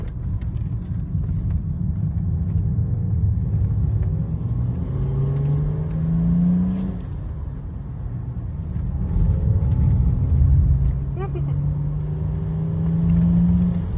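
A BMW 525D E39 runs a race track at Folembray, its engine droning loud and close with rising, revving sweeps as it accelerates through gears, a continuous rumble with no voices.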